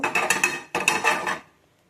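Roasted fenugreek seeds tipped from a pan onto a plate in a Kannada home kitchen give two quick bursts of rattling, clinking metal-on-plate scrapes, close and fairly loud, then fall silent.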